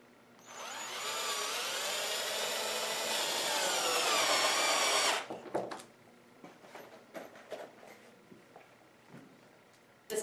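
Power tool driving fasteners through a closure cap into the flats of Onduvilla roof tiles: a steady high whirring whine for about five seconds, then scattered clicks and knocks as it stops.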